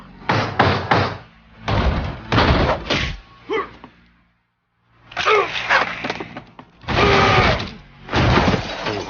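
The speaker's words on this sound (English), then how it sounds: "Molly's door hadn't been opened in years. The hinges groaned." Old door hinges groan as a long-unopened door swings open in What Remains of Edith Finch: several loud, drawn-out creaking bursts break off for a short silent pause, then resume.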